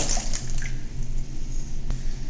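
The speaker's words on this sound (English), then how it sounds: "I am simply going to add 1 1/4 cups of water, which we've already measured into this lovely blue bowl." Water, about one and a quarter cups, pours and splashes into a blue mixing bowl, a steady close liquid rush with gurgling through the whole stretch.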